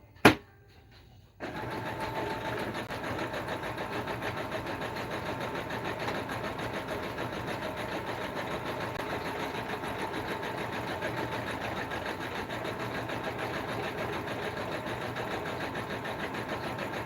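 A sewing machine hums steadily and close as it sews patches onto heavy denim jeans, with a sharp click at the start and then an even, continuous mechanical whir that holds for the whole stretch.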